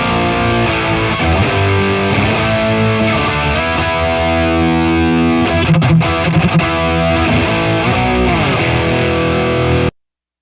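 Distorted electric guitar through a Polychrome DSP Nunchuck amp sim on its jump channel, Marshall-like crunch with continuous chords and riffs at steady loud level, a slight noisy hiss, cutting off abruptly near the end.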